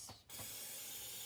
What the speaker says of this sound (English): coat very well with oil or nonstick spray